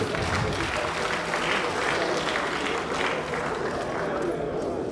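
Steady applause from a crowd at a press conference, dense and continuous throughout, fairly loud and close.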